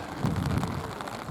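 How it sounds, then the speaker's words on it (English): Light rain falls steadily outdoors in Skopje, a soft continuous patter and hiss with no talking, fairly faint throughout. "It is still raining, not heavily"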